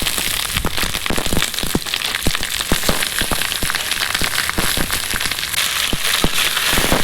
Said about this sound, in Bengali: ভাজা পেঁয়াজের মধ্যে চিকেনটা দিয়ে দিলাম।